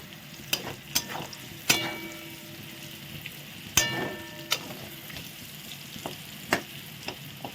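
Potato pieces frying in oil with whole cinnamon and cloves, a soft crackling sizzle broken by sharp clacks and scrapes of a spatula stirring, several distinct hits scattered throughout.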